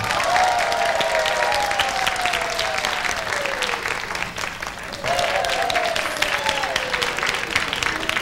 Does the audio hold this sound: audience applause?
yes